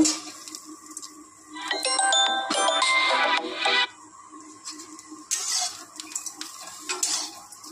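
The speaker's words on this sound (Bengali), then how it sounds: "নাড়াচাড়া করে নেব" A spoon or spatula stirs and scrapes food in a pan for a Bengali breakfast with green chillies, giving bursts of clinking metal and scraping over a soft sizzle, loudest in the middle stretch and then easing off.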